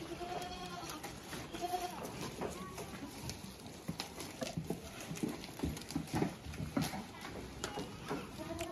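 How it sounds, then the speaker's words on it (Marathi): Osmanabadi dairy goats on a farm bleat intermittently amid a busy shuffle of hooves and movement, close and moderately loud, with a person speaking in the background. "एकदम चांगल्या क्वालिटीच्या शेळ्या आहेत बघा"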